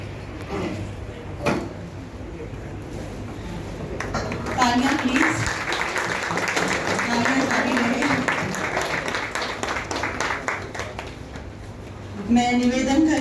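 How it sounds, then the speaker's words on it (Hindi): Audience applause at a Hindi-language evening event on stage: steady clapping from a crowd swells and carries on for several seconds, with a voice speaking over it near the start and again at the end. "तालियां"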